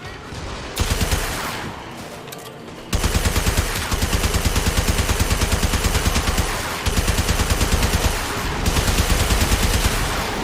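Rapid automatic gunfire in the video game Warframe, loud bursts that fire in long rhythmic strings with a short break, then more sustained firing.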